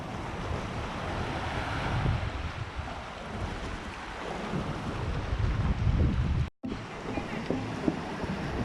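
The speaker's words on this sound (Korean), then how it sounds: "파도 온다 파도 와" Continuous roaring Atlantic surf on the coast of Tenerife, Spain, with waves breaking and washing in, heavy wind buffeting the microphone throughout, and brief voices under the noise.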